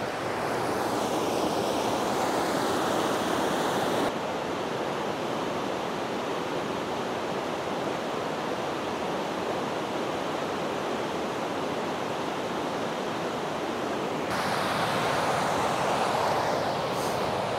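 A river in Torridon, Scotland rushes past in a dense, steady roar of moving water that stays constant and fairly loud throughout, with no voices.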